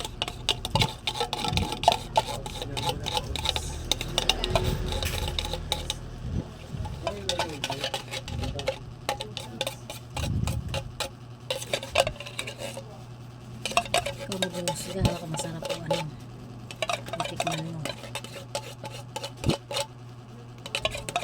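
A spoon stirs and scrapes through a coffee jelly mixture in a bowl, with steady close clinking against the sides, continuous and busy, with a few brief voices.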